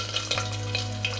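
Garlic sizzling in smoking oil with a pinch of hing and red chilies, a steady close frying crackle with a low hum beneath and a few brief stirring clatters.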